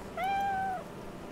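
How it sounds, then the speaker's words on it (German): A single clear, drawn-out cat meow in the video game Stray Souls: Stolen Memories, tonal and steady, heard alone over a faint background hiss. "Eine Katze macht."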